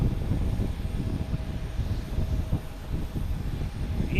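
A JetBlue Embraer E190 arriving from Nantucket at Boston Logan Airport makes a moderate, rumbling engine drone with gusty low-end fluctuations, heard alone at some distance.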